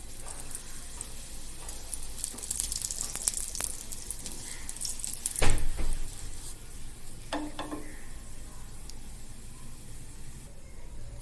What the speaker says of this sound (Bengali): 2 পিঠ এরকম লাল লাল করে হালকা আঁচে ভালো করে ভেজে নিতে হবে।